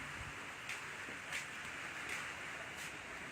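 Light rain falls in a soft, steady hiss, faint and continuous, with a few slightly louder patters at regular intervals and no voices.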